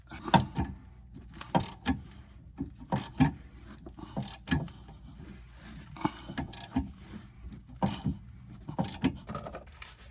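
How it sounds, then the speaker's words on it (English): A ratchet fitted with a 5 mm Allen wrench loosens a steering part on a car, making repeated sharp metallic clicking bursts about every second and a half, close up and with no talking. "It's a 5 millimeter Allen wrench, and we're gonna ratchet it out."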